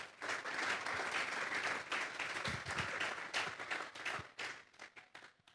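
A church congregation applauds during a sermon, a dense wash of many hands clapping that holds steady and then thins into scattered claps before fading out.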